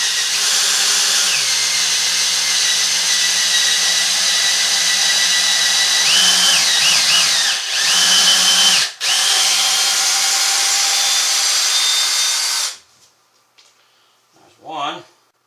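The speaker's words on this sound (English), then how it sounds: "change bits and drill the 1/4 inch hole" A power drill with a 1/4 inch bit, chucked barely in to reach 3.5 inches, bores a hole while building a black iron pipe stairway railing; the motor runs loud and steady for about twelve seconds, with brief speed changes, then stops.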